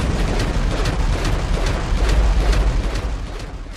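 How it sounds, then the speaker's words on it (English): A loud, sustained rumbling blast that rolls on for several seconds with dense crackling noise, an explosion in Grand Theft Auto V. "And of course the ensuing explosion"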